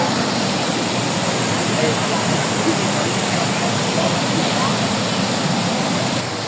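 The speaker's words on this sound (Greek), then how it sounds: "Και από εδώ πέφτει έτσι το νερό." Waterfall at the Pozar baths, water pouring down in a loud, steady broadband rush that fills the whole stretch without a break, heard up close.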